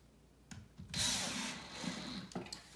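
A power drill drives pocket screws into a wooden farmhouse corner bench, with a short tap or two, then a loud whirring burst of about a second and a half that tapers off, followed by a faint click.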